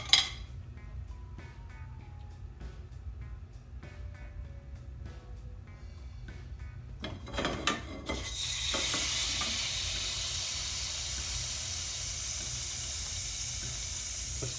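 Oil from a base gravy heats in a pan for chicken saag curry, with a few clinks and scrapes before a loud, steady sizzle takes over and continues to the end.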